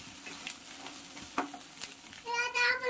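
Pav bhaji masala frying in a home kitchen pan, a soft steady sizzle with a few scraping stirs, quiet and close, briefly swelling louder near the end.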